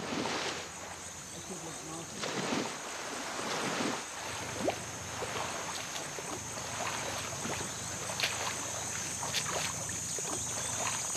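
A small boat wobbles up a mangrove creek off Tahitu village on Kohingo Island, with continuous water splashing and lapping, faint insect-like hiss and a low motor hum underneath, scattered light knocks along the way.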